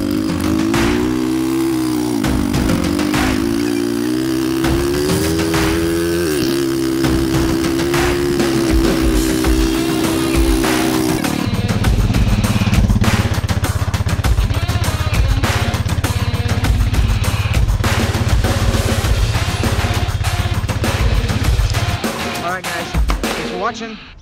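A Honda 420 ATV engine runs during a test drive, a steady mid-pitched hum that shifts to a deeper, rougher drone partway through and holds at a constant level.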